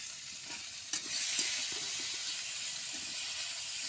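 Potatoes fry in oil in a home kitchen, a steady soft sizzle and hiss running throughout with a small clatter near the start and faint stirring.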